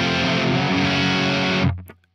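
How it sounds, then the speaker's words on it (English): Electric guitar played through the distortion channel of a Laney VH100R amplifier: a single sustained, heavily distorted note rings loud and steady, then is cut off abruptly near the end, leaving brief faint noise. "So here is the distortion channel."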